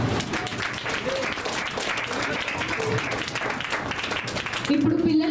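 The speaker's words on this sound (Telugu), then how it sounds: "గర్ల్స్ డాన్స్ మరి క్లాప్స్" A church audience claps steadily for a girls' dance at a children's Christmas program, a dense continuous wash of applause mixed with crowd noise and voices, swelling slightly near the end.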